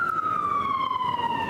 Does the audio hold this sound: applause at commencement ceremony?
no